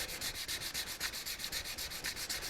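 Sandpaper rubs by hand across the body panel of a 2004 Chevrolet Trailblazer, scuffing deep scratches down to primer in a steady back-and-forth rhythm of close, even strokes with no voices.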